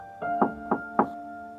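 A hoof knocks on a door in a read-aloud story, four hollow wooden raps spaced about a third of a second apart, close and clear against silence.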